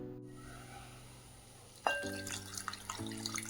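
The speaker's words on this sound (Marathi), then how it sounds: "ही चिंच आहे हे मी पाण्यातनं धुवून घेते" Tamarind preserved with rock salt is rinsed in a bowl of water in a home kitchen: faint running-water wash at first, then a louder clink and steady sloshing and splashing close by.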